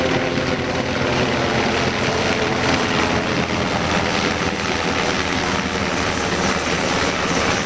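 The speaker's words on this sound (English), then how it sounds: "Overhead, the Air Force weather chopper monitored the conditions." An Air Force weather helicopter passes overhead, its dense rotor and engine roar filling the air as a steady, broadband drone with no pauses and no voices.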